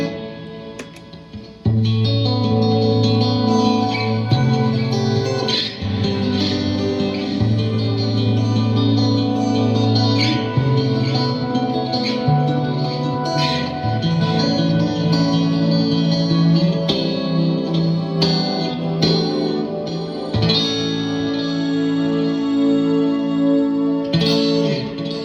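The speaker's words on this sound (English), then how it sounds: "let's turn on this canyon delay" Electric guitar played through a Canyon delay pedal, one of the setting presets engaged, producing sustained chords and notes with dense repeating echoes and a washy, modulated tail, loud and continuous with no talk.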